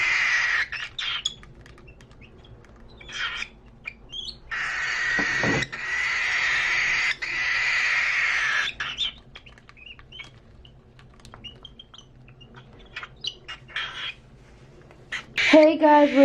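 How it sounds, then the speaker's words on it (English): A pet bird waiting to be fed lets out loud, harsh screeches in long bursts between clicks and rustling, with a person talking nearby. "now I'm gonna feed my bird, and it's screaming very loud"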